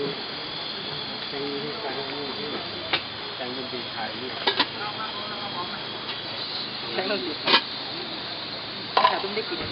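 Lunch rice reheats in a pan, giving a continuous sizzling hiss with scattered scraping stirs and taps. People talk over the cooking.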